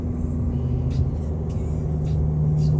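A Swiss PostAuto public bus on a village road in Seelisberg in autumn, its engine a steady low rumble close by that grows slightly louder toward the end, with brief hisses breaking in.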